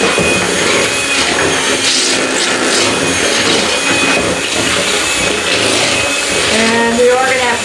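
An electric mixer beating lumpy buttery icing in a bowl: a loud, steady, whirring motor drone that runs continuously, with a person talking faintly under it.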